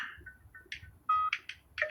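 A telephone rings in a home, short bright electronic tone bursts repeating in an uneven pattern, faint and close, over a quiet background with no talk.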